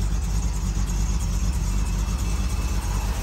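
A 1968 Shelby GT350 convertible with a four-speed sits running, its engine giving a steady, fairly quiet low rumble close by with no revving or speech.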